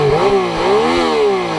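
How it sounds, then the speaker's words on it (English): A 2016 Yamaha FJ-09 triple-cylinder motorcycle engine revs hard against its rev limiter, holding a loud, steady high-pitched wail that wavers as the limiter cuts in, with no talking. "And then obviously this is your rev limiter."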